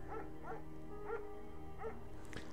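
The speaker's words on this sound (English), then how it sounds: "Mayhem's an excellent dog." Several short barks from Mayhem, a big pet dog in the Firewatch game, sound in a slow irregular series of about four or five yelps, close and clear over a steady low hum.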